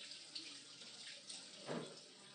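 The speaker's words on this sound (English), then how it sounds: "I'm going to use hot water out of the tap." Hot water runs from a kitchen tap to rinse stinging nettle greens, a steady, fairly quiet splashing hiss with a slight surge in the middle as the leaves pass under the stream, and no talking.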